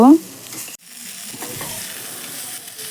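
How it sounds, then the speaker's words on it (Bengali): Continuous crackling sizzle of eggplant frying in hot oil, close and moderately loud, with a brief clatter at the start. "আমার বেগুনগুলো লাল লাল করে ভাজা হয়ে গেছে"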